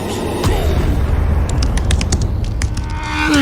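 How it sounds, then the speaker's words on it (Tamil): Firecrackers burst during Ganesh Chaturthi celebrations, giving loud, booming blasts followed by a rapid string of sharp pops and crackles, with no speech. "யாரா அவன் இன்னத்துக்கு பட்டாசு வெடிக்கிறான்"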